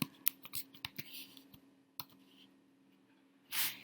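Quiet keystrokes on a computer keyboard entering a command on an Ubuntu 16.04 server, a brief uneven burst of clicks followed by a pause and a final louder clatter.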